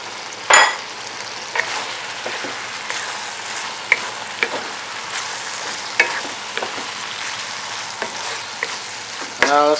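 Onion, tomato and Scotch bonnet pepper sizzle steadily in a frying pan, a continuous hiss with scattered utensil clinks and stirring scrapes, close and alone without talk.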